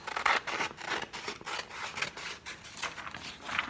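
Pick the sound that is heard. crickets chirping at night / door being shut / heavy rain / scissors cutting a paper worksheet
scissors cutting a paper worksheet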